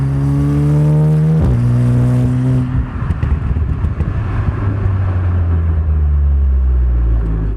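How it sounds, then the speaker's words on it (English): A stage 2 crackle-tuned Golf R revs and then lifts off the throttle, its exhaust crackling, popping and burbling loudly and close by as the engine note falls away. "it actually makes even more pops and crackles than it does if you just straight let off the throttle"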